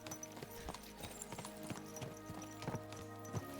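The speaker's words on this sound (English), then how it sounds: "Let's really spur these horses on, eh?" Horses gallop in Kingdom Come: Deliverance II, their hooves clip-clopping in a steady, fast rhythm under a continuous game music bed, with sharper hoof strikes standing out now and then.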